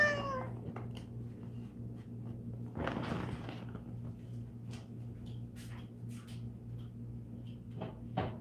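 A cat meows near its food bowl indoors, a few short mid-pitched calls at the start and again briefly, over a steady low household hum with some faint clattering.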